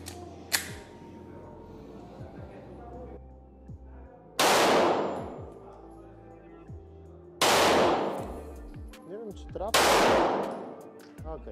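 Several loud pistol shots from a Canik METE SFX fitted with a GK Arms compensator, fired singly at irregular intervals with sharp cracks and short echoes, plus faint handling clicks in between.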